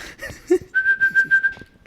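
Someone whistles a short run of thin, pulsing notes, repeated rapidly about six times, close and fairly quiet.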